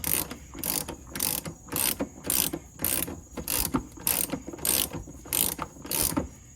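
A ratchet clicks in quick, even bursts, about a dozen strokes, while tightening bolts on a Mercedes differential, close and crisp in a workshop.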